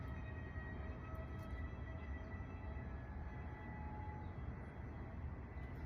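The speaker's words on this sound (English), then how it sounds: "Don't mind the trains. You hear that?" Trains rumble steadily in the distance, a broad low roar that holds throughout at a constant level with no voices over it.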